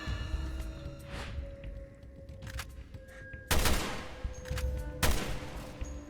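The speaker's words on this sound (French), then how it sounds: "Barry, tire sur ce truc sur mon chemin!" Gunfire in the video game Resident Evil Revelations 2: two loud, sharp shots about one and a half seconds apart, each with a short decaying tail. Fainter game ambience with tonal hums and smaller impacts fills the gaps between them.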